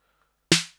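Single snare hit from a Roland TR-808 drum machine, a short crisp snap with a tonal body that decays quickly after a brief silence.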